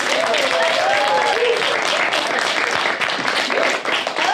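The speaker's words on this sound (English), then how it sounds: "Big round of applause." A lively audience claps and cheers, with whoops and voices rising over dense clapping, close and loud, tapering slightly at the end.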